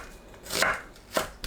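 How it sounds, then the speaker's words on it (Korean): A knife slices an onion into thin strips on a cutting board, giving a few close, crisp chopping strokes spaced unevenly, with no one speaking. "양파를 채 썰어줍니다."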